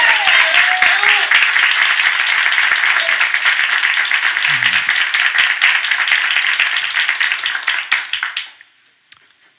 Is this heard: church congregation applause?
yes